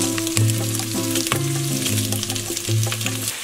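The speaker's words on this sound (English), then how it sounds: "break this Italian sausage up into it to brown it" Raw Italian sausage is broken up and browned in a soup pot, with a continuous close sizzle and scattered spoon knocks, while a steady musical tone sounds in the background.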